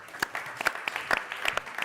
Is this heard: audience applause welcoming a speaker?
yes